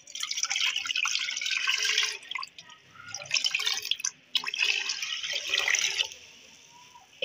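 Water pours into a pot of washed masoor lentils in a home kitchen, a splashing gurgle coming in several bursts with short breaks between them, close and fairly loud, no speech.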